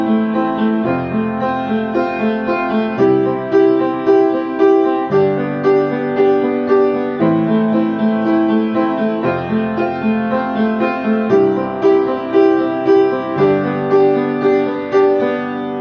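Piano comping through a repeating chord progression, the left hand adding fifths under each root, with steady rhythmic chord strikes changing about every second over a full, sustained sound.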